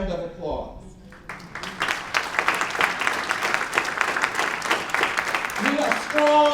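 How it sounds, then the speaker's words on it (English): Audience applause at a Black History Month program, steady dense clapping that builds after a brief spoken opening and carries on loudly to the end. "we just give you all a round of applause"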